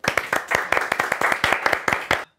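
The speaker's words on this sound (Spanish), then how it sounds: "Un aplauso para la gente de Mil Palta." A small comedy show audience claps rhythmically in unison, a close, loud sequence of about fifteen sharp hand claps at a quick steady pace that stops abruptly.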